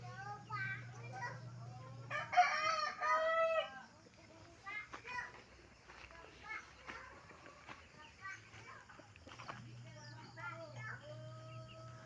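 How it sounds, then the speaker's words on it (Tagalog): Chickens cluck and a rooster crows amid farmyard bird calls in a home poultry yard, with people talking nearby throughout. "Dito tayo sa mga manok naman namin guys"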